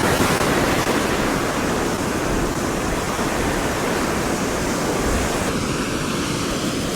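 Pacific ocean surf on a beach where snook are fished, a continuous loud roar of breaking waves and wash with no distinct pauses, heard alone.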